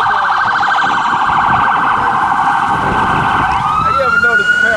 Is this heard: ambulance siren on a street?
yes